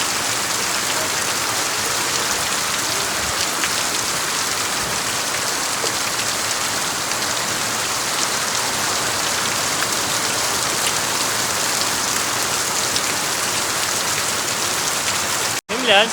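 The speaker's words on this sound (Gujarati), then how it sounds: "હા જો આવ્યો હો આવ્યો વરસાદ પાછો આવો ગયો" Steady, even rain pours down over farm fields, a dense hiss that continues without pause until a brief cut at the very end.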